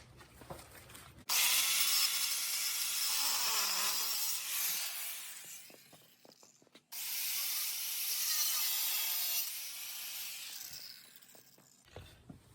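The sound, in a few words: angle grinder cutting old mountain bike frame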